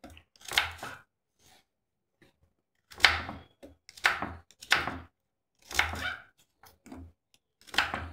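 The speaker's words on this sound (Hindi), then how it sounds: "अब हम इन सारे प्याज को चॉपर में चॉप कर लेंगे" Onions are chopped in a handheld food chopper in a home kitchen, giving a series of separate rattling, crunchy bursts with short pauses between them, close by and with no talking.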